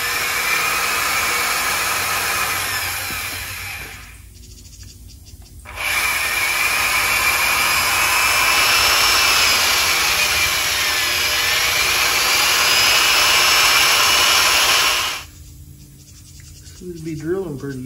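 A power drill bores out a broken dowel pin from a camshaft during engine reassembly: long, steady whining runs with two brief pauses, close and loud, over a steady background hum.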